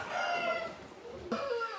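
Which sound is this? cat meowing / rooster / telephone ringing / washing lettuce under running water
rooster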